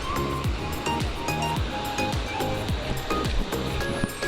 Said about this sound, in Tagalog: Kawasan Falls to eh.